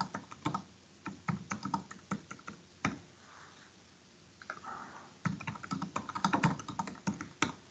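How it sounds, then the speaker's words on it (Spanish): Fingers type a password on a computer keyboard, producing irregular clusters of crisp key clicks with a brief pause midway, close and fairly quiet. "Aquí pongo la contraseña."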